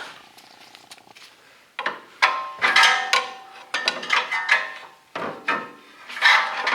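A pry bar scrapes and knocks against a lower control arm bolt on a 2004–2008 Acura TSX or Honda Accord, a series of short, irregular metallic rasps and clunks close to the listener.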